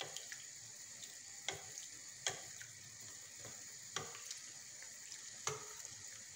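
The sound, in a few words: flower-shaped beignets frying in oil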